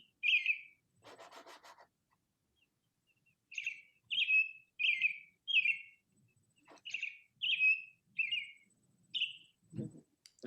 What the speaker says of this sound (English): This is a robin.